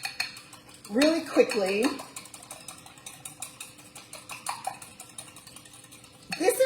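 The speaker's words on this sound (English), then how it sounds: "I have 2 eggs here. I'm just going to whisk it up" Two eggs are whisked in a bowl, a quick burst of fork or whisk clattering against the dish that returns briefly near the end, with a voice talking quietly in between.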